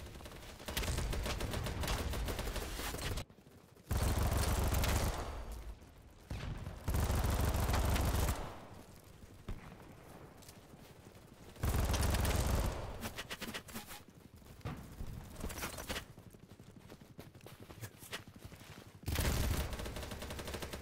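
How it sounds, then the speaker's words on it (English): Tank gunfire in the video game BattleBit Remastered, with several loud bursts of shooting and blasts separated by quieter gaps, heard over busy battle noise. "there's a tank on top of the hill shooting down at us"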